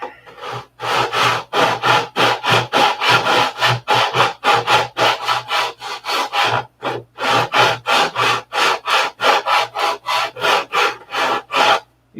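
A sanding stick is worked back and forth over the filled nose of a model, making steady rhythmic rasping strokes, roughly three per second. The strokes are close, loud and even, with no talk.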